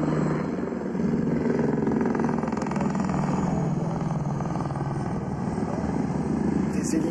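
Tiger military attack helicopters flying over a military training camp, a steady loud rotor and engine drone held throughout with broadband roar and low thrum, fairly close and continuous.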